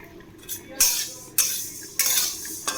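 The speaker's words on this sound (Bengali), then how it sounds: "কিছুটা চিড়ে ভিজিয়ে দিয়েছিলাম আর রেখে দিয়েছিলাম সেটাই ভাজছি" A spoon scrapes and clinks against a pan while soaked flattened rice is stirred as it fries, four sharp strokes spaced about half a second apart over a faint background.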